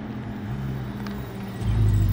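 Lamborghini Huracan STO and Ferrari 488 Pista race cars rumble with a steady low engine drone, swelling louder near the end as the launch builds, with no talk over it.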